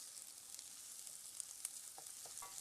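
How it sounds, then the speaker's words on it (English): Onions fry in oil with a constant soft hiss and sizzle and a few sharper crackles and pops, heard close and with no talking. "we're going to fry the onions in the oil until they're nice and soft as well"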